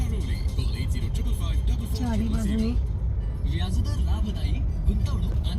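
Road traffic at a busy crossroads stopped at a signal, with a steady rumble of car and bus engines, a vehicle revving or passing close by, and a voice talking over the din throughout.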